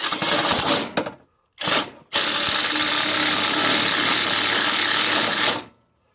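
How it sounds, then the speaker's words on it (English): An electric drill bores out a hole on a Toro CCR2000 snowblower: a short whirring burst, a gap, a quick second burst, then one long steady run of about three and a half seconds before it stops. It is close and loud, with no talking. "I'm going to drill that hole out a little bigger"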